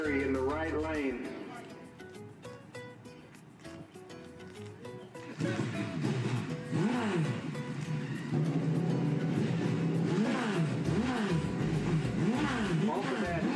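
A turbocharged Kawasaki drag bike revs at a drag racing event, its engine rising and falling in repeated surges under loud continuous announcer commentary.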